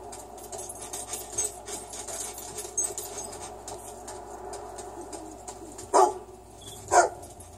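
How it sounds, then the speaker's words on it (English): A dog barks twice in the Fable 2 video game, two short loud yelps about a second apart near the end, over a steady background of game ambience and music. "Anything around here, doggy?"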